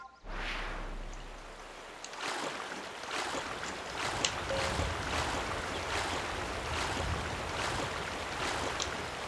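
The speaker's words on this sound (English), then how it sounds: "But instead of doing rafting, I think I'm going to do kayaking." Kayak paddling in the Go Vacation video game on Kawawii Island: steady rhythmic paddle strokes splashing through water over a continuous wash of rushing surf, moderately loud and without talk.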